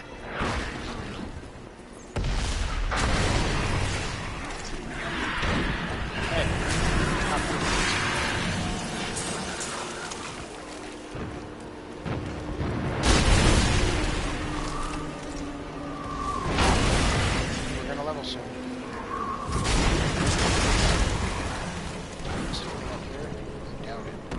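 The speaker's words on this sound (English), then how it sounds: "I think it's just because of the explosion that they have when they, like the little blood explosion when they die." Enemies burst in small blood explosions as they die in the Diablo 3 video game, repeated thumping bursts that recur every few seconds under continuous game sound and voices.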